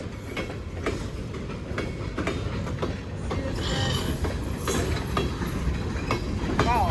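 A Norfolk Southern freight train, locomotive 4664 eastbound toward Oliver Yard, rolls past hauling steel coil cars, a steady close rumble with rhythmic wheel clicks and a brief high wheel squeal near the end.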